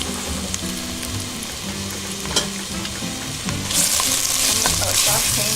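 Vegetables sauté in hot oil for a vegan chili, a steady close sizzle with a few clinks of stirring; the frying swells louder and brighter near the end.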